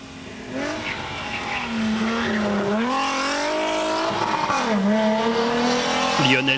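A Renault 11 Turbo rally car at the 1993 Madiran rally races past on a stage, its engine rising and falling continuously with tire squeal and skidding, loud and sustained throughout.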